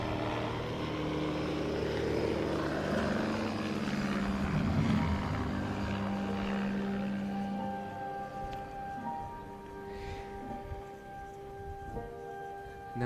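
A propeller aircraft at an airshow practice day in Leszno drones steadily as it tows a glider aloft, a loud broad engine roar that fades and thins toward the end, with no talking.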